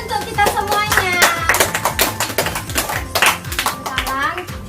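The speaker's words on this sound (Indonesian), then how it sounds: "Tepuk tangan dulu untuk kita semuanya." A classroom of children claps hands in a rhythmic patter of sharp claps mixed with loud children's voices talking and chanting.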